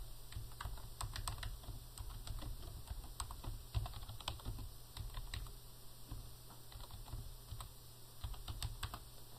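Steady keyboard typing as a job description for QuickBooks 2009 training is entered on a computer, with quick irregular keystrokes running throughout at close range over a low background hum, no voices.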